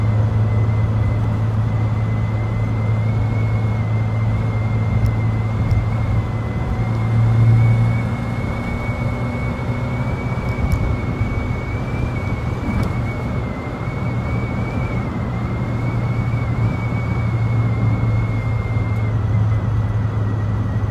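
A 1989 VW Polo Breadvan with its small 1-liter engine drives steadily along a road, a constant low engine drone and road rumble heard from inside the cabin with wind noise and no talking.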